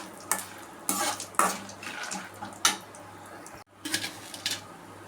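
Chillies and peanuts roasting in a pan, with a utensil stirring and scraping through them in uneven bursts of clatter and sizzle, moderately close, no talking over it.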